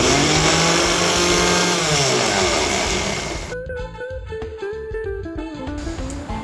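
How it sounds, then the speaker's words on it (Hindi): A kitchen mixer grinder blends almonds with other ingredients in a loud, steady whirring roar at close range that runs for about three and a half seconds before cutting off, after which music plays. "अब फ्रेंड्स इन सब को हम मिक्सी में मिक्स करेंगे"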